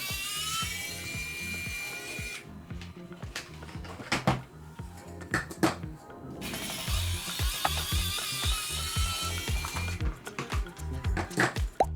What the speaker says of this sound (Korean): 여기 뒤쪽에 있는 나사를 풀어줘야 된대요.